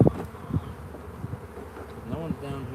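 Honeybees buzz steadily during a live backyard hive inspection, a close, continuous drone with a few louder passes as bees fly near; a person speaks briefly at times.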